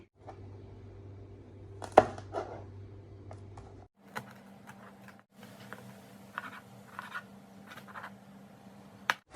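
Green chillies sliced with a knife, likely on a wooden board in a home kitchen: sparse, soft cutting taps with one sharper knock, set over a steady low hum.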